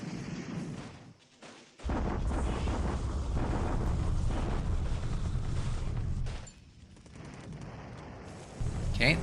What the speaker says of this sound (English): the Japanese are bombarding here